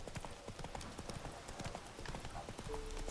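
Rapid rhythmic hoofbeats from the horse Roach galloping in the video game The Witcher 3, a fairly faint clip-clop with a brief tonal game sound near the end.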